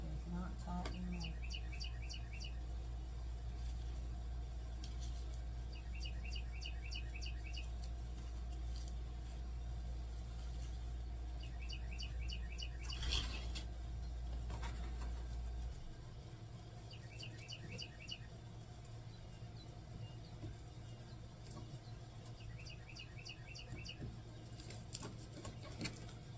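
A pet bird in a home repeats short chirping bursts at a moderate distance under a steady low hum of traffic, with a few louder knocks partway through.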